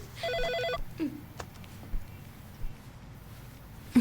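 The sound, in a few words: telephone ringing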